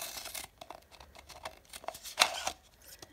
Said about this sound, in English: So with the scissors, what I did was I cut a slit